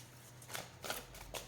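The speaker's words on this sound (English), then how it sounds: "So I'll shuffle one more." Tarot cards are shuffled by hand in a few soft, quick riffling bursts, faint and close in a quiet room.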